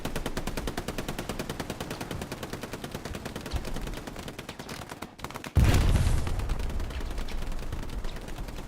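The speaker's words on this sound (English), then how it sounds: "Especially with those MGs blaring on down the road." Machine guns blaring continuously in a multiplayer video game battle, a steady rapid rattle of automatic fire that carries on alone, with a loud burst or blast partway through.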